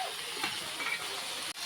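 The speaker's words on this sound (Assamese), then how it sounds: "এইটো আমাৰ হকিন্স কুকাৰ" Hawkins pressure cooker hissing steam outdoors beside a fire in the cold, a continuous broad airy hiss running throughout, close and steady with no talk.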